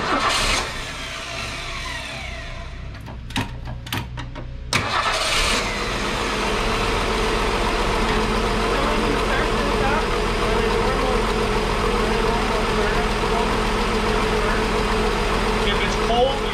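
A 1961 Ford Falcon Delivery engine cranks and catches after a few short clicks, then settles into a steady, loud idle that runs on close by for the rest of the stretch.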